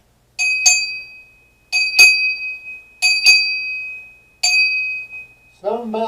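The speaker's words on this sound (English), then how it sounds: "It is currently 7 bells on the forenoon watch." A ship's bell rings seven bells on the forenoon watch: three clear, ringing double strokes and a final single stroke, each decaying, followed by a brief voice.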